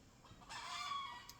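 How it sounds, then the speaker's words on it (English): Chickens at a small rural property make a brief, fairly faint fowl call, rising into a sustained crow-like cluck that holds for most of the moment before trailing off. "we also have some chickens that I'm living with at the moment, so they may like to join in the video"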